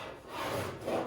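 A cheese grater rasp being drawn across Bondo body filler on doors gives one steady, close scraping stroke, soft and dry, with no voices.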